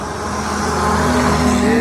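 Morning traffic on a national highway near the Saraipali border rumbles past as a continuous, fairly loud wash of car and truck engines and tyre noise, with no break.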